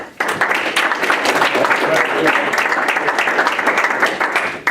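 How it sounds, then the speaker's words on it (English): A school board meeting audience claps after an oath of office, with dense, sustained applause filling the room for several seconds at a fairly loud, even level. "We can clap again."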